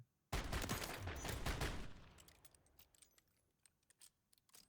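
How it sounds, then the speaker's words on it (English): A video game M4 rifle fitted with the Basilisk aftermarket part fires a dense, loud burst of rapid shots for about a second and a half, then the echo fades and scattered light clicks and rattles follow. "I want to show exactly how fast this basilisk aftermarket part will fire."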